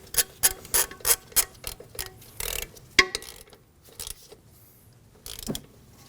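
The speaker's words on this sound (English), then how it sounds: "When tightening the banjo bolt, be cautious not to over-tighten." A ratchet tightens a brake caliper banjo bolt on a 2013-2015 Subaru XV Crosstrek, with a close series of sharp, rapid clicking strokes and brief pauses between turns, then a few scattered metallic ticks and clunks.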